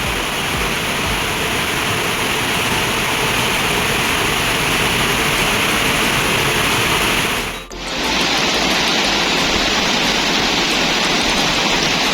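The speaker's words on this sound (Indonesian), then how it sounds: "sekarang kita melewati aliran sungai ini guys" River stream on a hiking route to Ciguntur peak rushing loudly and continuously, a dense steady roar of flowing water close by, with a brief dip near the end and no talking.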